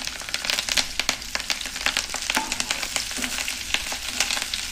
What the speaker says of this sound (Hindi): और इसको भी फ्राई कर लेंगे मिर्चों को।